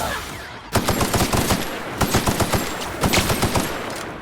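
Enemy gunfire in The Outer Worlds: bursts of rapid automatic shots crack out in three clusters after a short quiet start, loud and close, with no talking.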